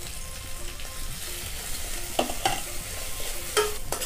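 Green chilies fry in hot oil in a pan, a steady crackling sizzle with a few sharper pops and stirring scrapes, close and alone with no talk.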